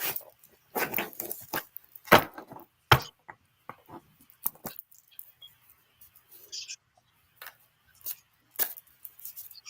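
Tarot cards being shuffled close up: quick papery riffles and snaps in irregular bursts, with soft taps and rustles between them and quiet gaps.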